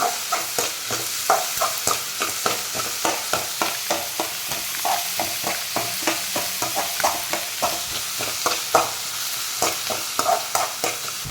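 Onions sauté with salt in a pan for chicken masala. A steady sizzle runs throughout, broken by regular, close scraping stirs, with no talking.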